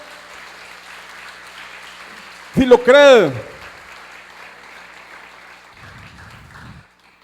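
A church congregation breaks into a short, loud burst of applause for the Lord during a Spanish-language sermon, rising suddenly and fading within about a second, with the preacher's voice around it.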